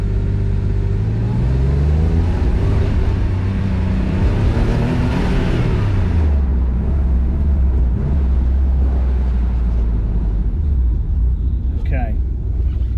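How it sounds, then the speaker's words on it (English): Car engine, warmed up after a rough start, revving up loudly and steadily for several seconds, its pitch rising then dropping back to a low idle rumble, with brief talk near the end. "let's give it some gas."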